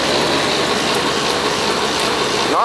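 An old Ruud air conditioner in poor condition runs its compressor, giving a loud, steady mechanical drone with a faint rattling texture that holds without a break throughout.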